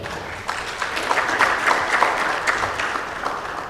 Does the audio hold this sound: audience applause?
yes